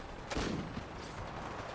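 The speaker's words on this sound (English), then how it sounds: "Can they take a single cannon shot?" A single cannon shot in Fallout 4 lands as one sharp, fairly loud boom with a short decaying rumble and no voices around it.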